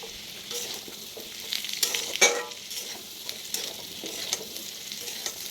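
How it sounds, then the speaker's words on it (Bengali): Potato, pointed gourd and soybean chunks lightly frying together in a pan, a soft continuous sizzle with a brief loud spit near the middle and intermittent stirring knocks. "তো এগুলো সব হালকা হালকা করে ভেজে নিলাম।"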